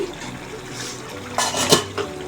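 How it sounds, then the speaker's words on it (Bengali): A lid is lifted off a pot of simmering pangas fish curry, a short metallic clink and rattle near the end over a soft, steady bubbling background, close and without talk. "এখন ঢাকনাটা আমি তুলে নিচ্ছি"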